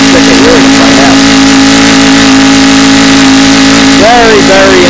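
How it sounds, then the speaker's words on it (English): An aircraft engine runs in a driveway with a loud, steady droning roar and a strong constant hum, very close, while a voice speaks over it toward the end. "if you're running an engine like we are in a driveway"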